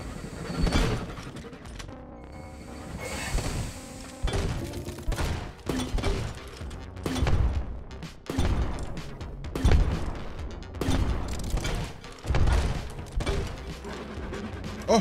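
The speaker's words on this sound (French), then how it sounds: "Je vais prendre le fusil à pompe." Pump shotgun blasts from the video game Eastward fire repeatedly in quick bursts amid punchy explosive booms and game action, loud and dense throughout.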